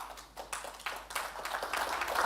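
Audience clapping at a Safaricom full-year results announcement, a scattered patter of hands that builds and thickens into steady applause over a couple of seconds.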